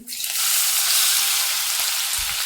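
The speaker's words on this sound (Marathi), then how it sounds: "जिरं आहे ते छान तळतळलेलं आहे तर कांदा घालून घ्यायचा आहे" Chopped onion hits hot oil already sizzling with cumin and asafoetida, setting off a loud, steady frying hiss with a faint stir near the end.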